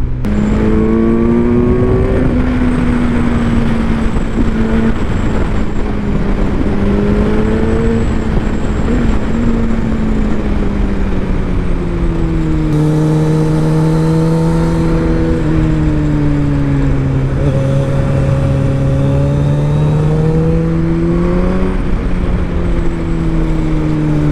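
A 2021 Kawasaki Z900 with 124 horsepower being ridden, its engine droning loudly and continuously up close, the pitch rising and falling through the revs as the rider accelerates and shifts.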